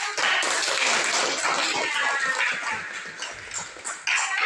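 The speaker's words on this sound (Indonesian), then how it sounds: "Berikan tepuk tangan" Schoolchildren in a classroom clap their hands together in a brief burst of applause, a dense patter of many small claps that holds steady for a few seconds before thinning out.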